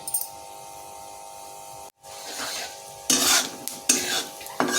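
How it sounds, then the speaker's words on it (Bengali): Panch phoron spices hitting hot oil in a wok for mango pickle, a steady low sizzle that breaks off briefly, then returns as loud bursts of crackling and spattering. "তেলটা গরম হয়ে গেছে এই পর্যায়ে দিয়ে দিচ্ছি আমি পাঁচ ফোড়ন"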